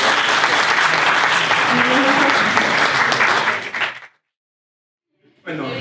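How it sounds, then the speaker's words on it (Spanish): Lecture-hall audience at a university talk gives loud, sustained applause for about four seconds before it stops abruptly into silence, and a voice starts briefly at the end. "Un fuerte aplauso para él,"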